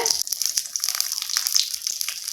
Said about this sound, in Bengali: এখন আমি পাথুরিগুলো এক এক করে ভেজে নিব